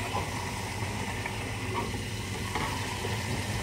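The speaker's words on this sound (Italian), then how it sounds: "Poi ci buttate dentro l'amido di mais." Cornstarch being stirred into warm water in a small pot, a continuous dense scraping and swishing texture at even volume with no pauses and no talking.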